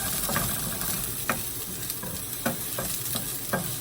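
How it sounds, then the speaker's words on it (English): Steady frying sizzle of onions sautéing in a pan, with occasional soft clicks and scrapes of stirring, close and continuous, no voices. "I'm just gonna saute my onions until they get translucent"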